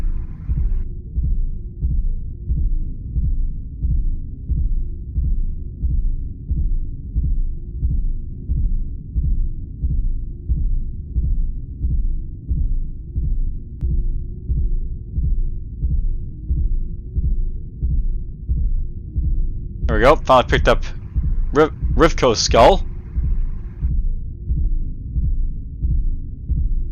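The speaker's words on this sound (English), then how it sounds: "The heartbeat noise is getting a little bit annoying, by the way," Steady looping heartbeat in the roguelike game Perpetual Mind: Rogue, a low, even double-thump throbbing continuously throughout, with a short burst of speech over it near the end.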